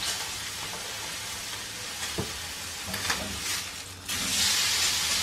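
A steak fries in a hot pan with a loud, continuous sizzle and hiss, plus a few brief clinks and shifts as it is moved, then the frying grows louder near the end.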